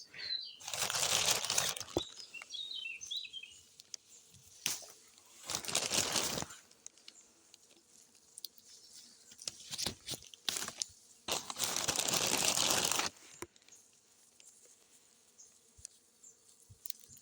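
Elderflower clusters are plucked by hand, giving several loud bursts of leafy rustling and snapping with quieter, scattered crackles in between.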